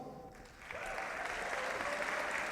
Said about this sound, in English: Give them your attention and applause.